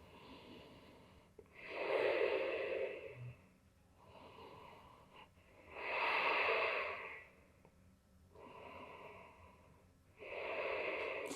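Slow, deep breathing during yoga standing poses such as warrior stances, in four or five long, soft breath cycles, each swelling and fading with quiet pauses between, close and fairly quiet with no talking.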